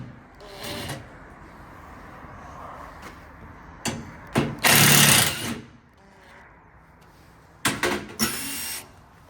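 A power tool backs out tech screws on a door hinge in short separate bursts, two brief ones and then a longer whine, with a pause before two more bursts near the end, all over quiet background noise.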